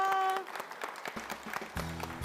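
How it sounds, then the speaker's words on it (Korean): A church congregation breaks into brief scattered applause after a loud tone, a soft patter of claps at a distance, followed by a low sustained organ-like note. "박수 부탁드립니다."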